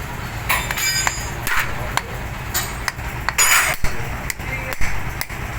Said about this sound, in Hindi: अब आप एक पेचकस की मदद से इसके इस जगह पर चोट लगाएंगे